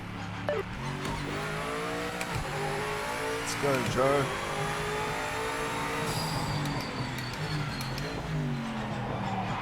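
BMW M8 GTE race car in Project Motor Racing at the Nurburgring, engine droning and revving up and down through gear shifts with some tyre squeal, steady and loud, with a brief spoken remark over it.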